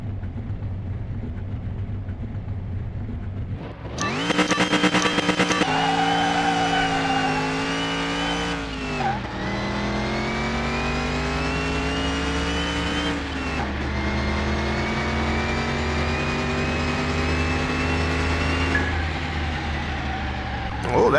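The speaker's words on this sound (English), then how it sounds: "Let's do our LS3 hot rod 69 Camaro." A video-game LS3-powered 1969 Chevrolet Camaro hot rod revs hard through several gear changes, its engine note climbing and dropping in long steady pulls, with voices talking over it throughout.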